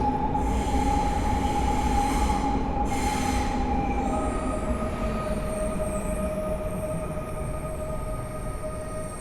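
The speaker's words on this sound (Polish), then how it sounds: "Dwa flirty przyjechały ze Skierniewic i pojadą do stacji Warszawa Wschodnia." Stadler Flirt electric trains roll into a platform at Warszawa Centralna station, a steady loud rumble with high wheel squeal and tonal motor whine that slowly fades as they slow.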